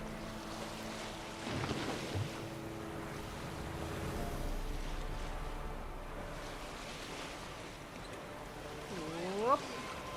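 Boat gliding over open water in The Witcher 3, with a steady wash of waves and wind under the whole stretch and a short rising creak or whistle near the end.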